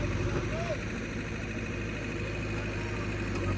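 A straining tractor engine rumbles steadily and loudly in a field at night, a constant low drone with voices talking faintly over it.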